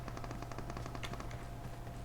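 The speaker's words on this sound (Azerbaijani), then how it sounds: "Atışma səsləri" Rapid automatic gunfire in the mobile shooter game PUBG Mobile, a dense run of fast cracking shots over steady game ambience, heard alone without voices.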